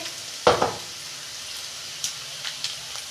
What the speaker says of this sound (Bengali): পেঁয়াজটা আমি ভালো করে লাল লাল করে ভেজে নেব।